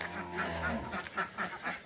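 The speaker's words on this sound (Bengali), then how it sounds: "হাঁসে যে কতকত করতেছে গো," Hungry ducks on a village homestead give a quick series of rhythmic, nasal quacks, close and fairly clear, in a short burst of five or six calls.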